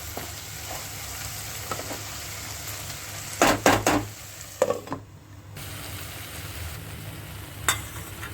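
Ivy gourd curry with curd being stirred in a pan: soft sizzling underneath, then a cluster of sharp scraping knocks of a spoon against the pan, followed by a few more scattered clinks, fairly quiet and close.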